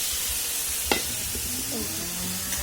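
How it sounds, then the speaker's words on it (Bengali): Raw vegetables frying in a hot pan with spices at home, a steady close sizzle with a few spoon scrapes and clinks over it. "তারপর কাঁচা ভেজে দেবো সবজিটা"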